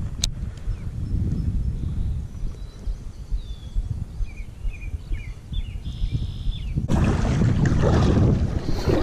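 Strong wind buffets the microphone outdoors while kayaking on open water for pike, a steady low roar throughout that swells louder near the end, with faint higher chirps in the background and no talk.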